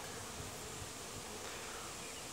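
Bees hum in a dense, steady buzz around a hive during hive robbing, a soft continuous drone with no voices.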